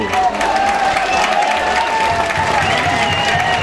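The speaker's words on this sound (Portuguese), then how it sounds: "Sai aplaudidíssimo o jogador Wagner." A stadium crowd applauds and cheers as footballer Wagner is substituted during an Iporá versus Aparecidense Campeonato Goiano match, a loud continuous wash of noise with a commentator's voice running over it.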